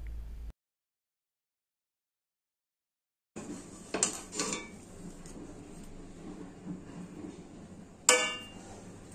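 Vegetable fried rice being stirred in a pan gives scraping and clinking utensil sounds against the metal, with a quiet stretch at the start and a sharper clank near the end.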